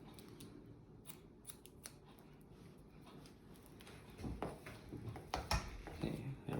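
Scissors cut hair in a 45-degree haircut, giving faint, quick snips over low background noise and getting a little louder toward the end.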